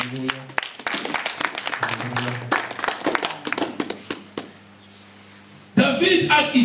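Church congregation clapping and applauding in a burst of dense hand claps over a held musical tone; the applause tapers off, then loud voices break in.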